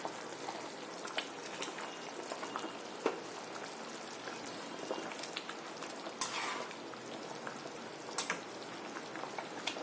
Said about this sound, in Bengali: এখন আমরা ট্যাংরা মাছটা ছাড়ি দেব ঝুলের মধ্যে।